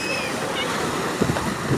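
Sea waves wash onto the shore at Agni Theertham beach, a continuous broadband surf roar with a couple of brief splashes, heard close and fairly loud with wind across the microphone.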